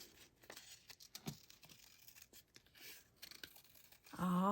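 Scissors cutting a circle into a spiral through paper card make soft, steady crinkling snips that are faint and close, with a louder rustle of handled card at the end.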